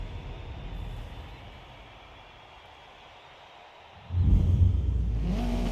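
A Subaru four-cylinder racing car in Forza Motorsport: a low engine drone fades and dips, then surges into a loud, throaty rev that holds steady to the end.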